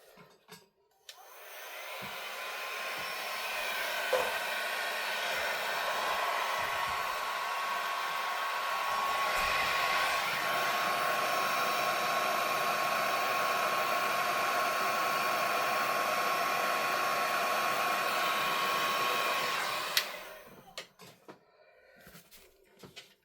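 A heat tool blows steadily on patterned paper, a loud, continuous whooshing hiss that runs for about twenty seconds before cutting off, with a few faint knocks at the start and end.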